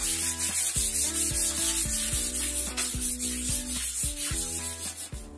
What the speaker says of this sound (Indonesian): Selanjutnya kita amplas saja secara manual agar hasil permukaannya terlihat lebih